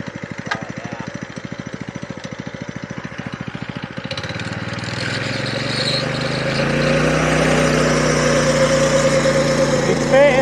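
Small engine driving a backyard tow rope, first puttering at a slow even idle, then revving up into a steady, louder running drone that holds to the end, with a voice talking over it.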